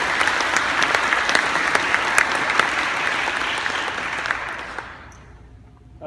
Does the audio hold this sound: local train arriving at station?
no